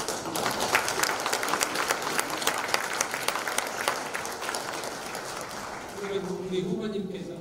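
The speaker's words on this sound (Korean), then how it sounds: "큰 박수로" A hall of university presidents applauds as a presidential candidate is introduced, sustained clapping that tapers off toward the end as a voice begins speaking.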